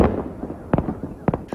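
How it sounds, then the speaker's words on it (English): Lunar New Year fireworks over the Hudson River in New York, with a few sharp bursts and crackling pops ringing out at a distance over a rumbling background. "fireworks lit up the sky above the Hudson River"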